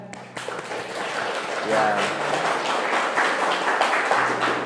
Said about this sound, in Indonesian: Oke, tepuk tangan dulu ya.